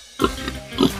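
Agitated pig grunting in a pen on a small hog farm, two loud, close, rough grunts about half a second apart, with no talk over them.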